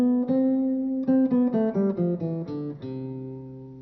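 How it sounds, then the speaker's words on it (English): An acoustic guitar plays a major scale, single plucked notes stepping one after another, clear and close with no talking. "In music, the most common scale is the major scale."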